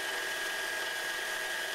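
Friction test shaft spinning at maximum RPM while lubricant material is applied under increasing pressure, a steady high-pitched whine that holds without a break through the short stretch, close and unbroken.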